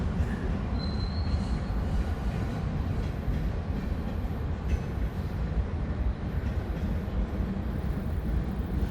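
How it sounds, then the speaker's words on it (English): A short line freight train rumbles past steadily at moderate distance leaving North Little Rock, a low continuous roar of wheels on rails with a brief high squeal early on. "a decent sized short line train heading out of North Little Rock."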